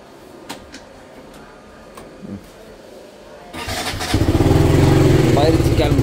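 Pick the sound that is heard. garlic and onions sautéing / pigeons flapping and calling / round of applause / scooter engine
scooter engine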